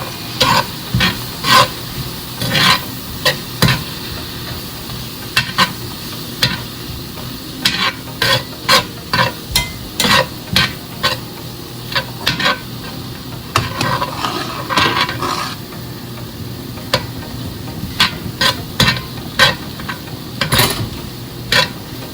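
Beef with a light sprinkle of flour stirred in a sizzling pan for beef stroganoff, with steady frying hiss broken by frequent scraping strokes of a utensil, close and fairly loud, no talking.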